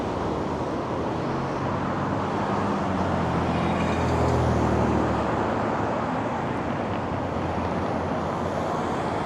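A car drives past on Richmond Street in downtown Toronto at night, its tire and engine noise rising to a peak midway and then receding over a steady bed of city traffic.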